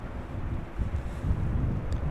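Wind buffeting a microphone outdoors at Amsterdam Schiphol Airport, a steady low rumbling roar that fills the whole stretch with gusty swells and no talk.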